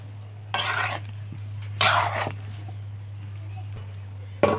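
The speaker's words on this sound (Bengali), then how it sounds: "লবণ দিয়ে আমি একটু নেড়ে চেড়ে দেবো" A spoon stirs spinach curry in a pot after salt goes in, giving two or three short scraping bursts over a steady low hum, close and moderately loud.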